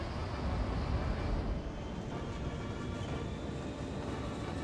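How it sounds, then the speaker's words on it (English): A cargo train rolls by in Cities Skylines, a steady low rumble of railcars that stays even for the whole stretch with no talking over it. "There's our train."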